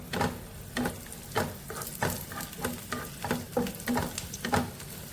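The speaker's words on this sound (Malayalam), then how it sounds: "അണ്ടിപ്പരിപ്പ് മുന്തിരി നന്നായിട്ട് മൂത്തിട്ടുണ്ട്" Cashews and raisins fry in ghee for a carrot halwa, a steady close sizzle broken by repeated scraping stirs about every half second, with no talking.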